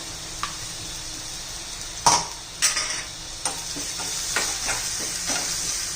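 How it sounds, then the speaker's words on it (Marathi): Chopped green chillies and coriander sauté in hot oil with a steady close sizzle for brinjal bharta, broken by several sharp spatula scrapes and stirring knocks against the pan. "मग मी बारीक केलेली मिरची आणि कोथिंबीर ती पण घालून घेऊया, म्हणजे तेलात चांगली परतून निघेल."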